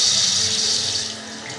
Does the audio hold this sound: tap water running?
yes